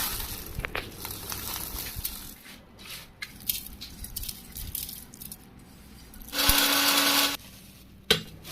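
A mixer grinder grinds masala for mutton mandi in a short, loud whirring burst of about one second, following quieter clattering and handling noises, with no speech.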